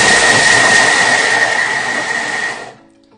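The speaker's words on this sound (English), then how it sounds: "grating cheese can be very, very loud" Thermomix TM7 grating cheese at speed 8 gives a loud, steady broadband whirring roar with a whining tone for under three seconds, then cuts off abruptly.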